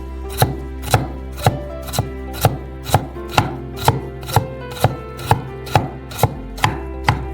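A knife chops carrots into thin slices on a board in a home kitchen, about eleven crisp, evenly spaced cuts in a steady rhythm, close and clear with no talking.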